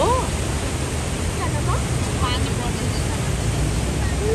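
Loud, steady roar of a flood-swollen river rushing below a bridge at Balkhu in Kathmandu during heavy rain, a dense continuous wash of water with no pauses.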